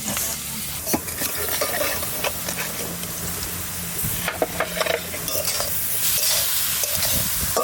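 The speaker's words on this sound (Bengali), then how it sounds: "এবার আলু কটা দিয়ে দেবো, একটু ভাজা করে নেব।" Potatoes frying and being stirred in a pan with a little salt and turmeric, a steady oily sizzle broken by repeated scraping and clinking strokes of a spatula against the metal.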